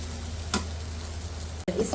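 Potato and gram flour mixture being stirred and roasted in a pan, a soft sizzle with a couple of spoon scrapes and taps, a low hum underneath.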